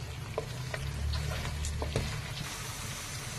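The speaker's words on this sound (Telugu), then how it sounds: "ఇప్పుడు బాగా ఇది డీప్గా వచ్చే వరకు మనం వేయించుకున్నాం" Spiced chicken deep fries in a pan with a dense, continuous crackling sizzle, scattered with small pops and spits, steady and fairly close throughout.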